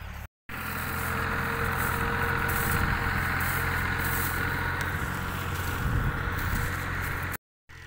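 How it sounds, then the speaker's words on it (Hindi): A Fiat-built Ghazi tractor runs in a field during wheat sowing, its engine a steady, fairly loud diesel drone with constant low rumble and vibration, briefly cut off near the start and end. "और ये ट्रैक्टर है फिएट, मेरे ख्याल में गाज़ी है, गाज़ी।"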